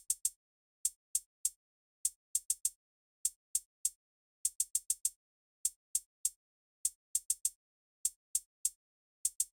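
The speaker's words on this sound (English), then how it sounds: "the hi-hat pattern just ended up sounding like this" Crisp trap-style hi-hat pattern with a swung bounce for a beat, short bright ticks in uneven clustered groups and quick rolls, dry and isolated over silence.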